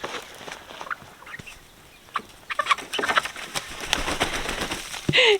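Hens clucking in and around a backyard chicken coop, scattered short clucks and calls that grow busier and louder toward the end, with a sharper squawk at the close; no speech.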